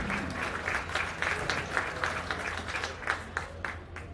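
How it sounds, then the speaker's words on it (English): A county fair swine show audience applauding hog exhibitors, a moderate round of clapping with a soft, slightly uneven patter, somewhat distant and low in level. "If you would please give those exhibitors a big round of applause."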